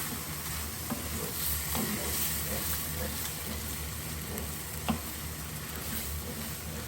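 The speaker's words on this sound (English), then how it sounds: "And just allow that to come to a nice simmer." A Mediterranean fish stew with mussels simmers in a pan, a continuous close bubbling hiss and sizzle with occasional soft pops and light clicks, no voices.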